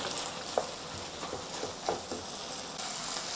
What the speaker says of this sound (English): just give it a few stir until everything is homogeneous